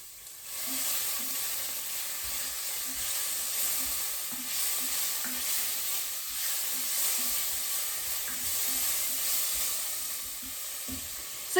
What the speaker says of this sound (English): So you just want to get your pancetta nice and crisp, kind of rendered down, get the fat to cook out of it.